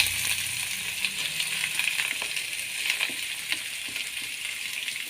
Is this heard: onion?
yes